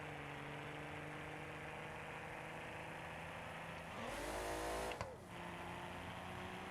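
A damaged car engine struggling in BeamNG.drive, its oil pan gone: a steady rough idle drone with a strained rev that swells for about a second near the end, then drops back, quiet overall and without talk.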